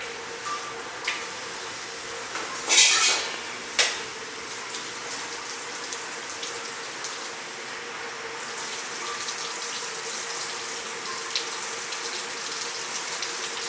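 A steady stream of cold water pours and splashes continuously, with a couple of brief clatters early on, fairly quiet and close, in a kitchen.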